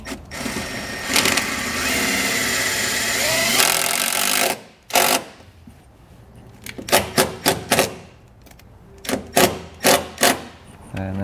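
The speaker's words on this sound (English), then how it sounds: "We're going to use self-tapping screws just like we did for our ground wire in the back to run it right down into there." A power driver runs self-tapping screws in while fitting a universal trailer brake controller kit, heard as a long steady whir that gives way to several short, sharp bursts of driving.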